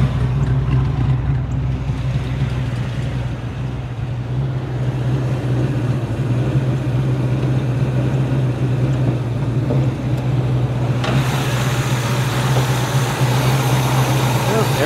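A 1969 Camaro Yenko recreation's V8 idles slightly high and a little rough, a steady loud low rumble throughout with a brightening hiss near the end.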